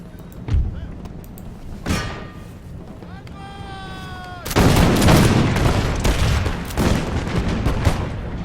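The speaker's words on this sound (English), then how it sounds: "Let's see how these cannons are doing. Hopefully getting some very nice canister shot on the enemy." Cannons firing canister shot in an Imperial Splendour battle game, with scattered booms early on, then a dense rolling volley of loud gunfire and thuds, while a voice talks over it.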